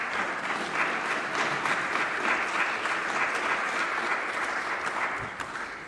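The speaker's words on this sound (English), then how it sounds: "A big applause for Rita." A conference audience applauds as a panel moderator comes on stage at a European Erasmus event, a full, even wash of many hands clapping for several seconds before fading slightly.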